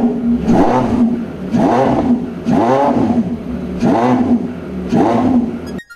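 Porsche 918 Spyder hybrid hypercar's V8 running in sport mode, revving in five strong, evenly spaced surges with short dips between, loud and close throughout with no talk.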